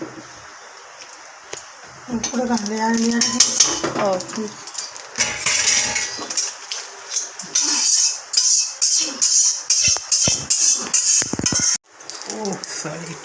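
Biryani being cooked in a pot at home, with goat fat added on top: metal spoon scrapes and clinks against the pot in rapid rhythmic bursts, close by, with a voice and other talk in between.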